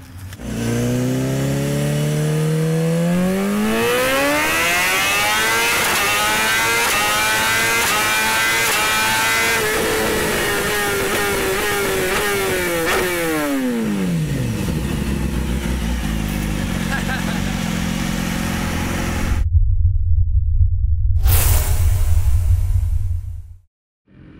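A 2015 BMW S1000RR motorcycle with a Hindle full exhaust system revs loud and close, its engine climbing and falling through repeated high-pitched sweeps, then settling into a deep, heavy rumble before cutting off abruptly near the end.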